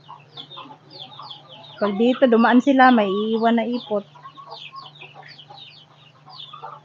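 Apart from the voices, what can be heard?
chickens clucking around the house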